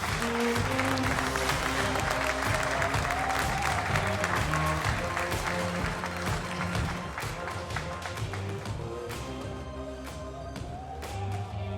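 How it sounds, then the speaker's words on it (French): Sustained applause from an audience at a French motorcycling federation press conference in 2019, steady dense clapping filling the room for about twelve seconds with a low musical bed underneath. "On peut les applaudir s'il vous plaît."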